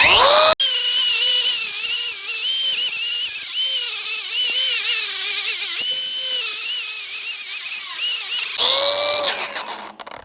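A power tool strips paint off a weld joint on a garden bench during its rehab, giving a loud, continuous high-pitched whine with wavering pitch for about eight seconds before it cuts off and winds down.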